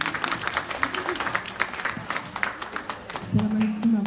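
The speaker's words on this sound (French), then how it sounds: "Merci de l'applaudir s'il vous plaît un petit peu." A gathering in Pontault-Combault gives light applause for a speaker, with scattered hand claps running for several seconds before a voice begins talking near the end.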